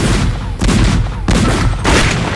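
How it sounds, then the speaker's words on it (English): A small cannon fired after priming, heard as loud, close booming blasts, about three heavy bursts in quick succession with rumbling decay between them, no talk over it. "All right, let's fire this cannon."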